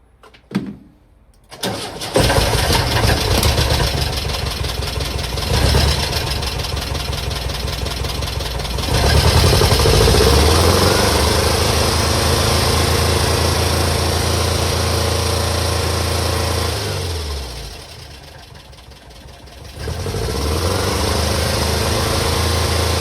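A 1967 VW Type 3 Squareback engine cranks on a weak battery and catches, then settles into a loud, steady idle that dips briefly before picking back up.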